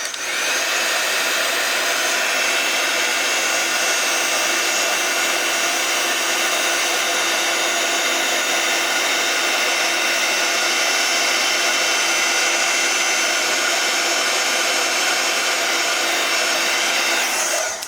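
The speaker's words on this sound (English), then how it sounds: "we're going to take our heat tool and heat this up." Crafting heat tool blowing hot air, a loud steady whooshing whine with a constant fan tone, running unbroken and close for the whole stretch before cutting off at the end.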